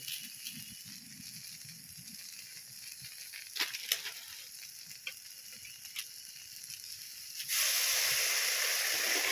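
Mixed vegetables with spinach stalks fry in a pan with red chili and turmeric powder, giving a steady close sizzle with a few faint clinks that swells into a louder, fuller hiss near the end. No one speaks.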